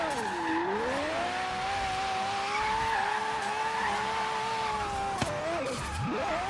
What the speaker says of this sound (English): Definitely has a lot more wheel spin now.